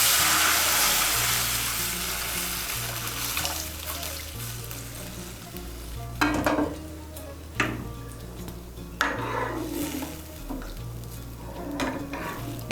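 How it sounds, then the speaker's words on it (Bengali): Thick milk boiling and being stirred in a wok for semai payesh, a bubbling hiss with a low steady hum beneath and a few sharp ladle clinks against the pan. "দুধটাকে আর একটু ভালো করে ফুটিয়ে নেব।"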